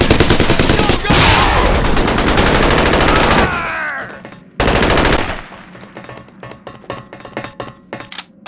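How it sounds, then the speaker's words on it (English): Game gunfire and a flashbang grenade blast in SAS: Secure Tomorrow during a factory assault: a loud, dense burst of rapid shots and a sharp bang, a brief drop, then a second burst fading into scattered clicks and impacts. "Flashbang!"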